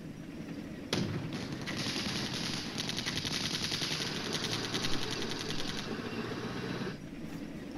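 Tank and machine-gun fire in the wargame Flashpoint Campaigns Red Storm: a sharp loud onset, then a sustained rattling burst of rapid automatic shots for about six seconds, ending abruptly, alone without talk.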